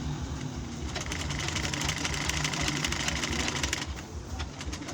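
A sewing machine stitches a butterfly-cut dress, its needle chattering in a fast, steady rhythm that runs the full length, close and moderately loud.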